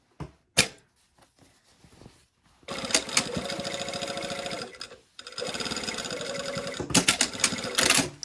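A sewing machine stitches a side seam on a garment body, running in two sustained bursts of steady, rapid needle chatter separated by a short pause, with a few sharp clicks at the start.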